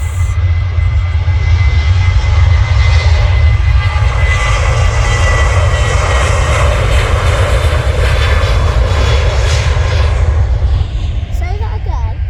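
Passenger jets, a Ryanair and a SunExpress airliner, at Manchester Airport, giving a loud, continuous engine roar with a heavy low rumble that holds for about twelve seconds, with people talking over it.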